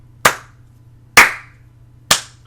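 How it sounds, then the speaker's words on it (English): Three separate hand claps, slow and evenly spaced about a second apart, crisp and close with silence between them. "I know some of you are doing a slow clap"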